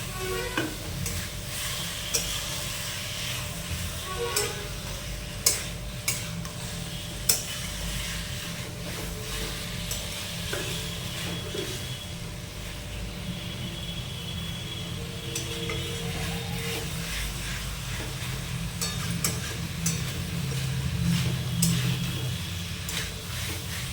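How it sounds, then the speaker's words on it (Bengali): Potatoes are stirred into a spice masala in a pan, with steady sizzling under repeated spoon scrapes and occasional metallic clinks against the pot, close and moderately loud. "এবার মশলার সাথে আমরা আলুটা ভালো করে মিশিয়ে নেব।"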